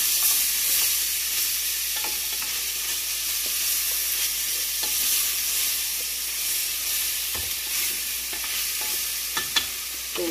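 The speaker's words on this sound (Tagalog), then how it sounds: "Ma-fry ng onte. Pero hindi natin sila sobrang lutuin." Onions sizzle steadily in a hot pan for chicken curry, a dense continuous frying hiss with occasional faint stirring clicks, close and loud with no talking.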